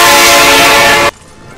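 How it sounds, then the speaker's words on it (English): A train horn blasts loud and close in Roblox Evade as a train arrives, a sustained, brassy tone that cuts off abruptly after about a second, leaving quiet rumble behind. "The train is here!"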